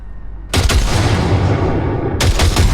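A short burst of weapon fire in Cyberpunk 2077 blasts loudly after a quiet half second, a dense rapid volley lasting over a second and a half, followed by a second burst near the end.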